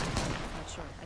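Gunfire in Apex Legends: a rapid, dense burst of shots at the start that thins into a rattling tail over about a second, with some chatter mixed in.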